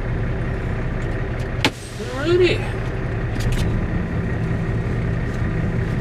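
A semi truck's engine rumbles steadily as it backs into a parking spot, lining up beside other parked trucks. A brief hiss and a short squeal break in partway through, and one short spoken word is heard.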